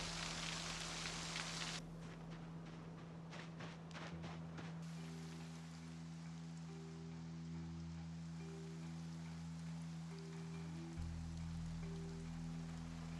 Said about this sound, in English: I love this weather, raining non-stop.